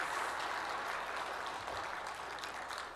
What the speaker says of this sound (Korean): 우리 박수 한번 이들에게 격려의 박수 보내줍시다.